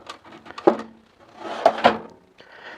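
A tool box drawer slides open or shut in two quick bursts, each a short scraping rattle of metal and contents with a sharp knock, close and distinct against quiet.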